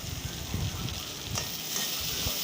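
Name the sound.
stirring tomatoes, fried peas and peanuts in a frying pan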